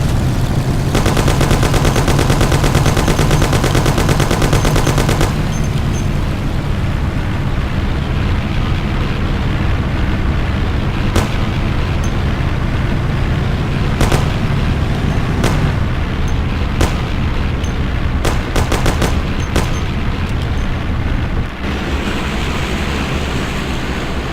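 Heavy gunfire in the crime game Mafia during a mission shootout, with sustained loud bursts over an engine-like roar, sharp individual shots punctuating the second half.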